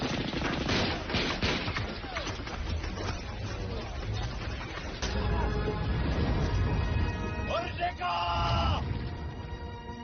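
Rapid bursts of gunfire and explosions from a film battle scene between Dutch soldiers and Indonesian fighters, with shouting voices mixed in and a brief stretch of ringing, tonal sounds near the end.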